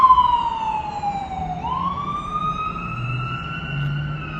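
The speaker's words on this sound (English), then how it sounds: "I apologize for having to talk very loudly over the emergency vehicles going by here." Emergency vehicle sirens wail past a building near construction in Ohio, a loud sweeping tone that falls, then rises and holds steady over a low traffic rumble, with no talking.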